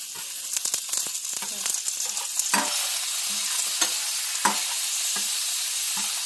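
Chicken skin frying in a pan to render its fat for a creamy sauce, a steady close sizzle with intermittent stirring clicks and scrapes, no voices over it.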